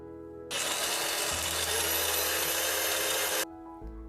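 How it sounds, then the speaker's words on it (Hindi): A mixer grinder whirs at full speed for about three seconds, blending a sweet paste in its jar with a loud, dense motor whine that starts and stops abruptly, with no talking. "इसे मिक्सर जार में रखकर इसे ग्राइंड कर लेंगे।"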